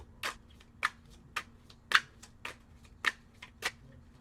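A deck of tarot cards is shuffled by hand in a quiet room, giving a series of crisp riffling flicks at an irregular, slightly uneven rhythm, close and soft, with no speech.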